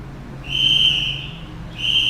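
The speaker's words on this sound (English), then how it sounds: "That's actually my daughter with a whistle" A child blows a shrill whistle twice, a long steady blast followed by a second one starting after a short pause, loud and close.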